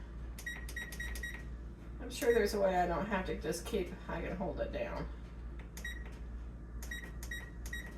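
Kitchen timer set for baking banana bread, giving quick clusters of high electronic beeps at the start and again near the end as buttons are pressed, with a person talking in between over a low background hum.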